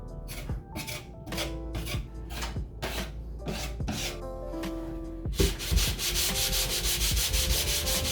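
Rhythmic back-and-forth sanding strokes rasp across a patched drywall ceiling, then give way to continuous, steady scraping near the microphone.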